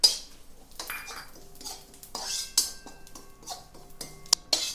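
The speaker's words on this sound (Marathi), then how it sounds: "तर आपण इथे आता शहाजिरे हे भाजून घेणार आहोत।" Shahjeera (caraway seeds) being dry roasted in a pan, heard as intermittent metallic clinks and scrapes of a spoon against the pan, with sharp taps and brief ringing between quieter stretches.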